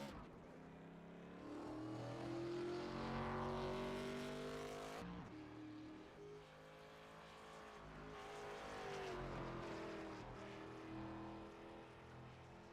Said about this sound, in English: several cars actually making their way onto the race surface for qualifying